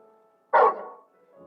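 A single dog bark from the video game Final Fantasy 16, one short, mid-pitched woof over a quiet low hum, clear and fairly close, with no one speaking.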